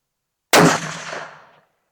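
A single Remington 700 rifle in .308 fires one sharp, loud shot that cracks abruptly and then rolls away in a reverberant decay lasting about a second, with no voices around it.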